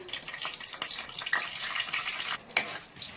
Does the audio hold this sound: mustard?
yes